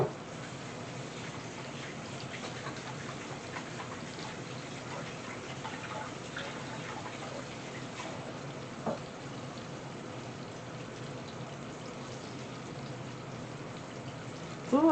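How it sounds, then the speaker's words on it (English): Running tap water pours steadily over hands being washed at a kitchen sink, a constant even rush at moderate level from start to finish. "let me wash my hands"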